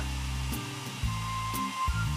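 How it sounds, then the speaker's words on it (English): A video game hair dryer blows with a steady, whirring roar, its pitch stepping up and down a few times over a couple of seconds. "I'll message him after I finish drying your hair"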